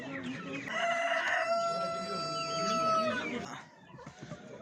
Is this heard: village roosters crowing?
yes